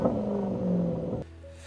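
A Range Rover SVR engine revs with a deep, loud, rumbling growl that holds steady and then drops abruptly to a quieter, lower idle near the end.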